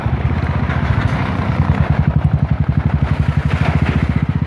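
A Royal Enfield motorcycle on a ride through the Gata Loops in Ladakh, its engine giving a loud, close, steady low thumping pulse that quickens slightly toward the end.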